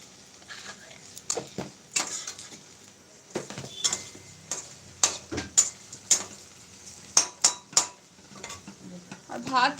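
Food cooking in a pan on a home stove, with scraping and clinking utensil strokes over a faint sizzle, close by, with some quiet voices in the background.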